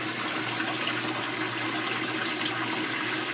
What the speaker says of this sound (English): Now watch what happens as the water starts coming in faster and faster.